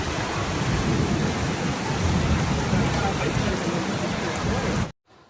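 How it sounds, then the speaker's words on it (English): A Guangdong storm with level 12 winds brings a dense, steady roar of heavy rain and wind gusts with rumbling thunder, loud and unbroken for about five seconds before cutting off abruptly. "Heavy rainfall combined with strong wind gusts"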